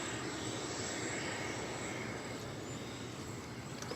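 An American Eagle regional aircraft arriving at DFW Airport gives a continuous, even engine roar with a faint high whine, steady and unbroken over a few seconds, with no voices.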